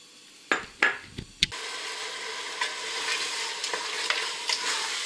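Onion, tomato and herbs stirred in a pot for Moroccan harira, with a few sharp utensil knocks early on, then a steady close sizzle with soft scraping strokes.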